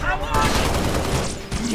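Rapid automatic gunfire rattles through a battle in the Halo Reach mission Tip of the Spear, a loud, dense fusillade that keeps going with only brief dips.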